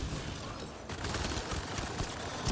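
An automatic turret in a video game fires a fast, dense stream of gunfire, steady and fairly quiet throughout the short burst.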